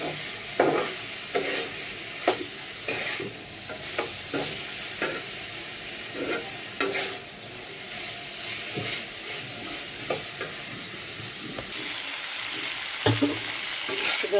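Vegetables fry and get stirred in a pan for an uncommon home-cooked sabji: a steady oil sizzle runs throughout, punctuated by repeated scraping clicks of a spoon against the pan, close and with no talking.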